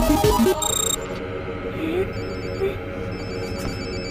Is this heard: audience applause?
no